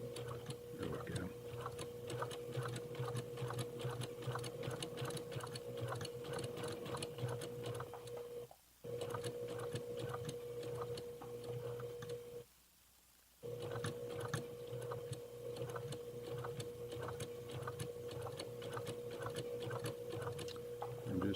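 A sewing machine stitches a seam guided along a ruler, its fast, even mechanical whir running steadily at close range with two brief pauses partway through.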